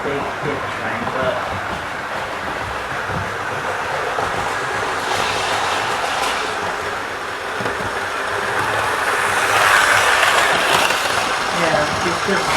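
A model railway train runs around a track layout with a steady mechanical whirr and rumble that swells slightly near the end. People talk over the running train throughout.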